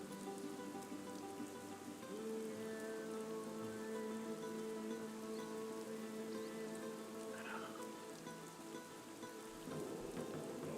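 Steady rain in Minecraft falls as a continuous, even hiss over low sustained tones of ambient music, with a soft higher chime drifting in near the middle.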